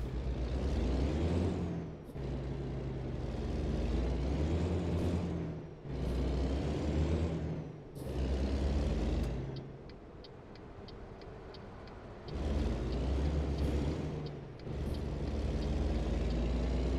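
A truck in American Truck Simulator slows under braking, giving a low rumbling engine and road noise in repeated surges. Sharp air-brake hisses come between them, and a rapid series of short beeps is heard partway through.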